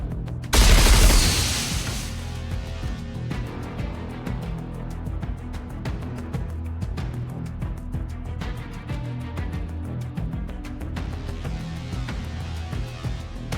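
Gunfire and explosions in the game Goddess of Victory: Nikke, a sharp loud blast near the start followed by a steady stream of rapid shots and impacts over game music.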